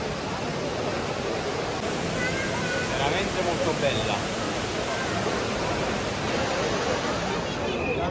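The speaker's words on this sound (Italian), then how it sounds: "Ecco a voi la cascata d'argento." The indoor silver waterfall at the Dubai Mall pours as a steady, broad rushing wash, with crowd babble and a voice speaking over the constant noise.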